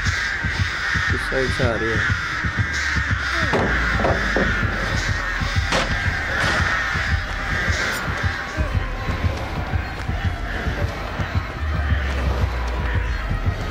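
Crows caw repeatedly in Dead by Daylight Mobile, their harsh calls scattered across a busy in-game soundscape while players talk over them.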